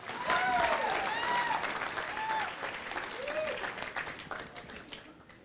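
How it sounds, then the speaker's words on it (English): Wedding guests applaud the maid of honor in a dense, sustained round of clapping that swells early and slowly thins toward the end, with faint voices mixed in. "Big round of applause for our maid of honor,"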